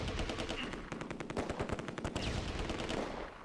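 Gunfire in the Close Combat II video game, set on a tree-lined road at Arnhem: rapid bursts of machine-gun fire and rifle shots crackle continuously and loudly throughout, with no voices over them.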